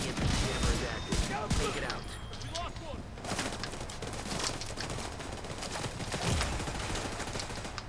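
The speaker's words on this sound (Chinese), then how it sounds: "来掩护我一下，要射击啊！" Scattered gunfire from a firefight in The Division 2 crackles steadily at moderate distance, with repeated shots over a busy game soundscape and faint voices.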